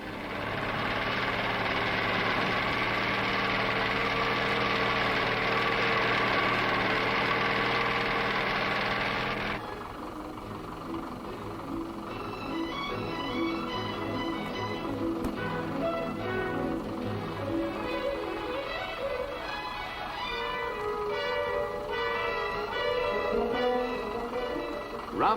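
A diesel Land Rover engine runs with a loud steady droning hum that drops to a lower, rougher throb partway through, continuous with no talk.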